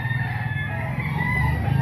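Boston Claret gamefowl roosters crow and cluck at a market, several birds layered into a continuous farmyard din at moderate distance.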